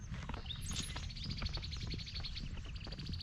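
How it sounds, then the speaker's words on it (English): Several birds chirp and tweet in quick, overlapping calls across a quiet cemetery, faint and somewhat distant, with soft rustling outdoor background. "The birds up there."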